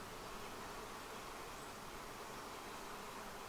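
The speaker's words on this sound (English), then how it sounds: "the bees on the side of the hive, they are trying to figure out what's going on" Honeybees swarm along the side of a Flow Hive during a honey harvest, making a steady, dense buzzing drone that fills the scene continuously and fairly close, with no voices.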